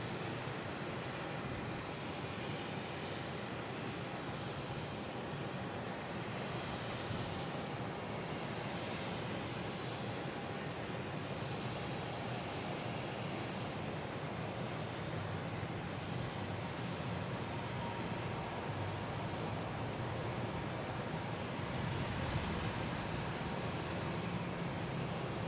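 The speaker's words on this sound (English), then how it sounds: "We have Air Canada coming in." An Air Canada Embraer E175 airliner on approach to land on runway 27 at Boston Logan, its engines a steady broadband roar that holds at a fairly constant, moderately distant level throughout.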